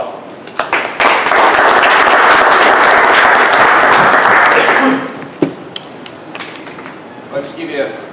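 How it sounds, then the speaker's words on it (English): Meetup audience applauding a speaker at a blockchain business gathering, a dense wash of clapping rising after a second and holding steady for about four seconds before tapering into scattered claps and brief talk. "let's give him a nice round of applause"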